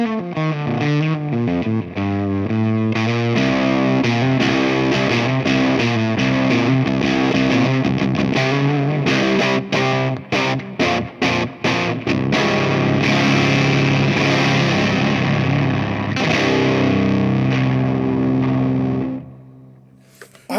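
Heavily fuzzed electric guitar through a Hello Sailor Effects Xenomorph Fuzz with bias all the way up, low-tuned, thick and saturated, playing low riffs and sustained chords up close, with a brief choppy strummed passage, fading at the end.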